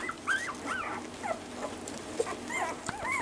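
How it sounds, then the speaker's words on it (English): A litter of eleven eight-day-old puppies whimpers and yips in high, wavering cries, several overlapping close by at moderate volume with no talking. "There is the 11 Kismet puppies."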